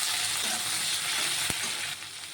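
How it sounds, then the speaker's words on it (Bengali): Prawns and prawn heads frying in hot oil, a bright continuous sizzle with one sharp knock partway through, close up and without speech. "এই তেলের মধ্যে আমি কিছুটা চিংড়ি মাছ আর কিছুটা চিংড়ি মাছের মাথা ভেজে নেব।"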